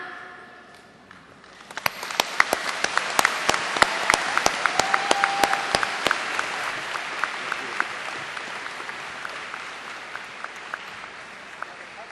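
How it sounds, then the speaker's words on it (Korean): An audience at a sports championship opening ceremony applauds, a dense burst of many hands clapping that swells quickly, holds strongly, then gradually thins and fades, heard from within a large hall, with faint voices underneath. "다시 한번 뜨거운 박수로 선수 대표를 대표한 선수들의 선서를 축하해 주시기 바랍니다"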